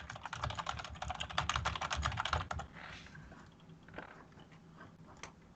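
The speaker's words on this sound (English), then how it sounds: "Somebody's keyboard's loud." A computer keyboard clacks loudly and rapidly during a live online call, with fast, close keystrokes for about two and a half seconds before the typing turns sparse and fainter.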